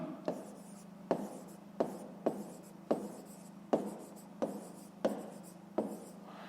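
A pen writes on paper while working a fifth-grade maths exercise, about nine crisp, evenly spaced strokes tapping out a steady rhythm, close and quiet with no voices.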